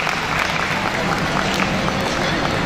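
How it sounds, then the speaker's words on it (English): Audience applause for volunteers at a Tamil community event, a dense, steady wash of many hands clapping throughout, fairly loud and close, with crowd noise mixed in. "please, give them a big round of applause"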